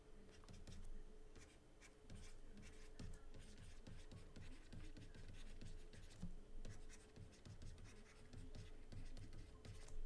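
Pen or marker scratching out truss equations by hand, quiet rapid strokes in irregular bursts, close and faint with no talk.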